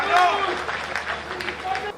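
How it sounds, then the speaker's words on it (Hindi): Audience at a Hindi comic poetry gathering claps loudly at the host's call, a dense steady wash of applause sustained throughout with some voices mixed in. "दोनों हाथ उठाए, जोरदार तालियां बजाए, प्रताप फौजदार को बुलाए"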